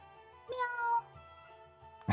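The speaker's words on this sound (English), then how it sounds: "Is that a cat?" A cat gives a single clear meow in the middle, with a brief sharp noise at the very end over a low, steady hum.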